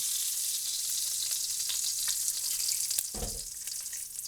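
Bacon frying in a pan, a steady close sizzle and crackle with a brief louder clatter near the end as it is stirred or turned.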